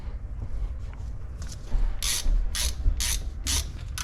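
A ratchet socket wrench tightens the suspension cartridge of a Santa Cruz Nomad mountain bike, a series of about four close, bright ratcheting bursts over low mechanical shuffling, with no voices.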